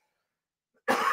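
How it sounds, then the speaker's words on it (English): A host's cough on a live-streamed shopping show, a single harsh burst that starts abruptly after silence, close to the microphone and fairly loud. "let me cough, sorry, I yelled a lot"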